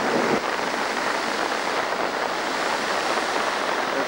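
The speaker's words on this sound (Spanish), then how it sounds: "Está a 2 metros de profundidad, está sacando una enorme cantidad de agua" A large volume of water gushes from an 80 pipe buried two metres deep, near Cocentaina and Beniarrés, making a loud, continuous broadband roar with no talking.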